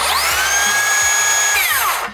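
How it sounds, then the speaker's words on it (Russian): Makita HS004G 40-volt XGT cordless circular saw with a brushless 6000 rpm motor whines up to full speed, holds a loud steady pitch close by, then spins down as the trigger is released. "Бесщеточный двигатель раскручивает 6000 оборотов в минуту на данной пиле"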